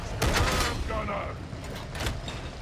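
Gunfire in Darktide bursts out in a couple of loud, sharp volleys with a rattling mechanical edge, separated by a brief lull and set against a steady background din.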